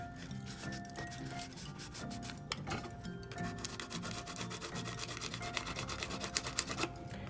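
Paper gift box pieces for a Halloween hand sanitizer box being folded and creased by hand, steady close rubbing and crinkling with small taps and scrapes throughout, no talking.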